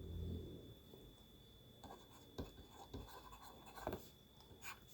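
A pen scratches out figures on paper in short, sparse strokes, very faint and close against a quiet background hum.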